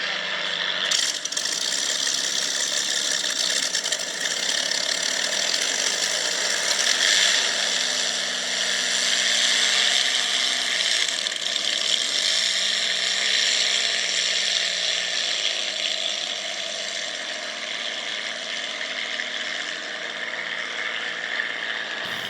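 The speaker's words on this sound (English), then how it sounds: "You just heard the sounds of vintage hydroplanes taking off from the docks, and including the Atlas fan lines on the Merlin engine." Vintage hydroplanes powered by Merlin engines take off from the docks, a loud, steady mechanical drone with whirring, rattling texture that holds for over twenty seconds before easing slightly near the end.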